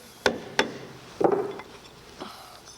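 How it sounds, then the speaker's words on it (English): Two sharp metallic hammer strikes on a car alternator housing in quick succession, then a rougher clattering knock and a faint later tap, close by with no talking. "Let's give it a whack with a hammer,"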